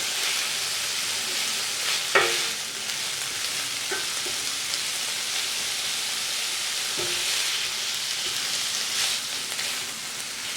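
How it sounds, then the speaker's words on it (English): Thick slices of bacon fry in a pan, giving a steady, even sizzle with a few soft clinks and scrapes from stirring, close up and without talk. "I finished frying up the bacon pieces"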